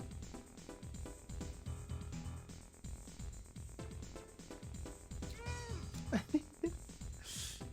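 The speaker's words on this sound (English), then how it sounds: "Alright, Kitty, say hi to chat" A pet cat meows a few times near the end, short rising calls close by, over a steady background of indoor noise and keyboard-like clicks from a streamer's desk.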